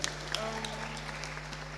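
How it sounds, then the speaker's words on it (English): Applause at a school forum, scattered clapping from a crowd in a room with a steady electrical hum, fairly faint and uneven with a few sharper claps near the start, and a voice faintly heard underneath. "Give the head girl a round of applause"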